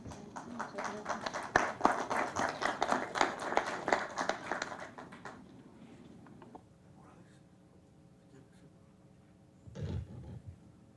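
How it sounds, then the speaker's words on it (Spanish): Audience at a Senate social security policy panel in 2014 applauds a speaker, a dense burst of clapping for about five seconds that fades into quiet room tone, with a brief thump near the end. "Hacemos un aplauso para Sibila, por favor."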